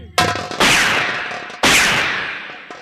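Two sharp, loud gunshots, about a second and a half apart, each with a ringing decay trailing off, during a live nautanki folk theatre performance.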